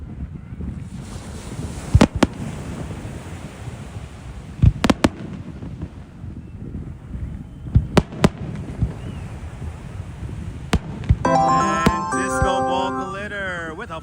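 Fireworks burst over Coney Island in New York, sharp loud cracks and booms spaced irregularly through a steady crowd and surf-like ambience, ending in a dense crackling flurry of bangs.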